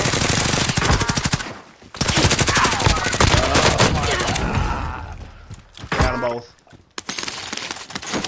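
Rapid bursts of automatic gunfire in Call of Duty Warzone crackle loudly and close, with brief pauses between volleys and players talking over the shooting.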